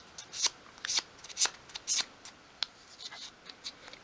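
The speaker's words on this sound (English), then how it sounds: "Just sweep the paper from sort of front to back," Paper is swept and smoothed by hand over a 1/12 scale miniature garden shed model, a series of soft, quick rustling strokes in irregular bursts, faint and close up, with no voices.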